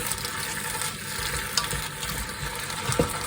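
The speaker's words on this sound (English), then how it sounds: "pepper, and a little bit of spring onion. Just fry these off quickly. Get that all mixed in." Courgette, sweet pepper and spring onion sizzling in a hot pan while being stirred, a steady close frying hiss broken by a few light utensil clicks.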